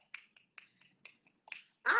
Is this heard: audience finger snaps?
yes